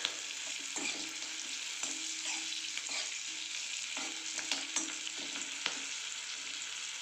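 Green chillies fry in a pan with a steady, close sizzle, broken by brief scrapes and knocks of a spatula being stirred through them every second or so; no one talks.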